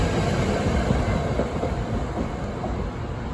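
A SEPTA commuter train bound for West Trenton rolls along the rails, a loud, continuous rumble with rhythmic wheel clatter heard up close for the whole stretch, with no talking.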